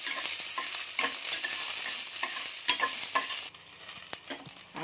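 Garlic frying in a pan for a vegetable curry, with a dense, loud, close sizzle and crackle and scattered stirring scrapes, easing to a quieter sizzle near the end.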